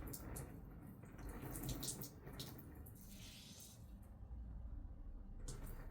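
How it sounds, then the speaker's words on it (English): Water poured over a beauty blender makeup sponge indoors, a faint steady splashing trickle with soft drips, quiet and close. "so I'm just going to pour water over it."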